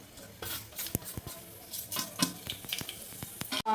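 Whole spices such as bay leaf, cardamom, cinnamon, cloves and shahi jeera frying in hot oil for chicken pulao, giving a soft sizzle broken by clicks and light clatter from a utensil or pan.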